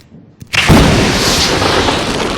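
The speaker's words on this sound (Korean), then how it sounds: "첫 폭발이 울렸습니다" A single blast goes off inside an underground tunnel being dug through rock, a sudden loud boom after a brief hush that swells into a sustained, roaring rumble.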